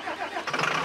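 A vehicle engine at a forestry timber harvesting site cranks and catches in a quick, close start that rises into a rough running sound.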